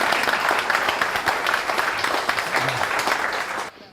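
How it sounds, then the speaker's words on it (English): Dense, steady audience applause for Barry at a talk about New Zealand politics, filling the room continuously before tapering off sharply at the end. "A round of applause to Barry."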